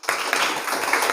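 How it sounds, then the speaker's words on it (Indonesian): A school podcast audience breaks into a short burst of steady applause that starts suddenly and stays dense and even, loud and close, for about a second. "Penonton tepuk tangan deh."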